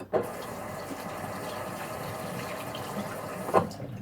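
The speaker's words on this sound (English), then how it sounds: "so give them a rinse" Tap water runs steadily into a sink in a home kitchen to rinse egg off hands while making cauliflower mini bagels, a continuous hiss throughout with brief splashy bursts near the start and end.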